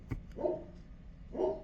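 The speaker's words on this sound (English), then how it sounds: "that's the dog signaling the mail" A dog barks twice in the distance while the mail arrives at a house, two faint, short, separated woofs with low background noise.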